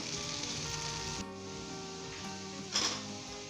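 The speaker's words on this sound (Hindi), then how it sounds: "मीडियम हाई फ्लेम कर लेनी है आपने और हमने अच्छे तरीके से इसे क्रिस्प करना है हल्के हाथ के साथ" Potato bhujia fries in a pan over a medium-high flame, making a steady, close, hissing sizzle with a brief louder scrape of stirring near the end.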